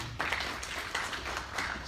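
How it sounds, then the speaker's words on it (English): Applause at a private sector forum breakfast launch in Uganda, a soft, moderate patter of clapping spread through the room for about two seconds, with brief swells. "Big round of applause for him"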